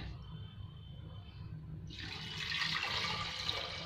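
Hot water pours into a pressure cooker holding lentils and turmeric for sambar dal, a faint low rumble giving way to a brighter, splashing liquid rush over the last half.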